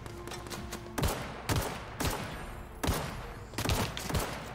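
Gunfire in the video game The Outer Worlds: several loud shots in a ragged series, each a sharp crack with a short decaying tail, spaced about half a second to a second apart.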